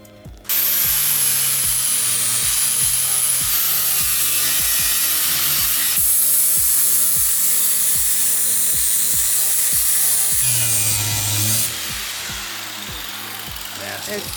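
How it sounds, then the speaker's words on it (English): Rapid rhythmic scraping of a power tool sanding hardwood flooring, harsh and loud, with short pauses and a brief change in pitch partway through. "now it's time for a lot of sanding"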